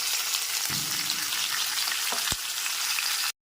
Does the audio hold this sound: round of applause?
no